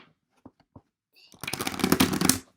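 A quick riffle of oracle cards being shuffled up close, a dense papery flutter after a few soft taps and rustles.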